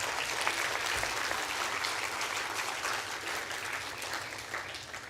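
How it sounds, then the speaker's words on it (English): Steady applause from an audience at an inauguration ceremony for a national-level camp examination, dense clapping at an even level that runs throughout without talk. "They really deserve a big round of applause"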